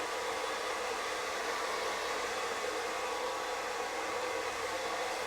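A hair dryer on its low heat, low speed setting blows a steady, even whoosh of air at close range, continuous and unbroken with no talking.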